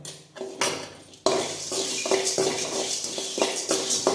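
Cumin, black pepper and chana dal dry roasting in a pan without oil for a chicken curry, with a metal spoon scraping and stirring in steady, close clatters against the pan.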